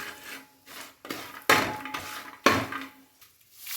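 Sorghum flakes being stirred with salt and turmeric in a dish, giving a few sharp scraping clatters of a spoon against the vessel with quieter rubbing between them, close and alone.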